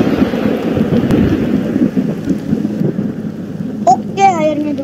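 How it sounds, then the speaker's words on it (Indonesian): Rain falling during a flood, a dense steady wash with rumbling wind buffeting the microphone, then a brief tonal squeak near the end. "Iya masih hujan ya"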